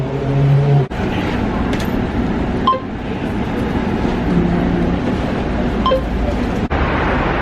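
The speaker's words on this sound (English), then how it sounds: "here's our bus, bus number 24, heading to the Archaeological Museum" City bus number 24 in Tbilisi pulls up at a stop with a loud, steady engine rumble close by, a few metallic clinks and brake hisses over the drone.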